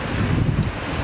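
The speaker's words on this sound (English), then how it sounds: "It's a bit windy there," Gusty wind buffets the microphone on a walk through Karangahake Gorge in New Zealand, a steady low roar of rushing air with no talk.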